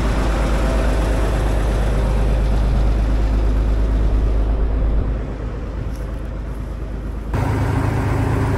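An old cable shovel, sitting unused for 23 years, has its engine running with a loud, steady, close rumble that briefly dips in level before surging back up near the end.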